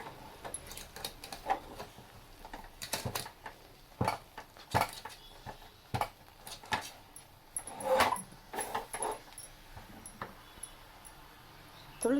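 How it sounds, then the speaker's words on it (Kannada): Flour dough for steamed roti is stirred in a pan, giving a run of irregular scraping knocks and clinks of a utensil against metal, fairly close and moderately loud over about twelve seconds. "ಈಗ ತೊಳಸ್ಕೋಬೇಕು."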